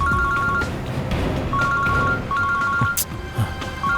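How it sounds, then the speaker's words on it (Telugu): Phone ringing in a tense police-drama scene, with a repeating electronic ring pattern in short bursts, nearly four in a row, over a low background rumble. "శ్రేయ వాళ్ళ అమ్మ దగ్గర నుంచి ఫోన్"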